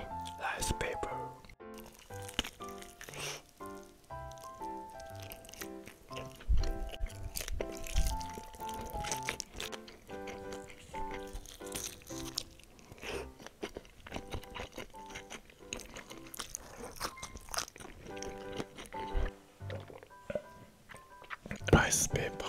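Crunchy rice paper croissant being eaten close to the mic, with repeated crisp bites and wet chewing over several seconds and soft whispered talk in between.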